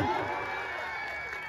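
A crowd at an outdoor stage concert cheers and whoops, a loud continuous roar of voices with some clapping that carries steadily throughout.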